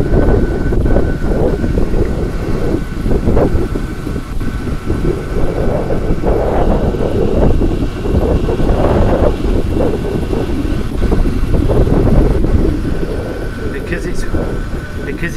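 Strong wind roars around a small 12-volt wind turbine, a loud, continuous broadband rush with gusty surges and a faint steady hum running through it throughout.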